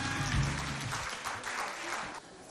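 A school audience in Mao applauds students of the Al Barka evangelical school after a choreography performance, a dense and steady wash of clapping with a faint voice at the start.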